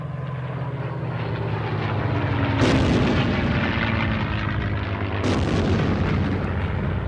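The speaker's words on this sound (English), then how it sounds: "dropping the bomb short of the target so that it bounces into position to explode" A bomb dropped by a World War II P-51 Mustang in a skip-bombing run explodes with two loud booms a few seconds apart over the continuous roar of aircraft engines.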